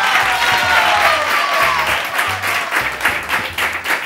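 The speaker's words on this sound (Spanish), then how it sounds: "¡Un aplauso para Manu!" Studio audience applauding for Manu on a Spanish TV show, brisk lively clapping throughout with a faint musical tone sliding underneath and a low rhythmic beat pulsing beneath.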